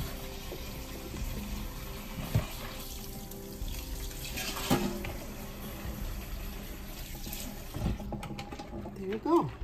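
Water poured for a cucumber dessert, a faint running trickle and splash with light clinks and handling noises, quiet and close, ending in a few brief knocks.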